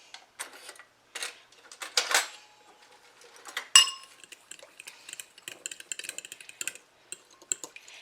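Utensils clink and scrape against dishes while ingredients for a pineapple jello pretzel salad are stirred together, a run of light, close clattering taps and rattles with short pauses and no talking.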